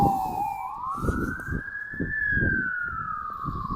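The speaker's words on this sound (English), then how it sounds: "oh, there goes fire engine." A fire engine siren wails in a rising and falling sweep as it passes along a downtown street in Regina on a mild February day, loud and continuous over low traffic rumble.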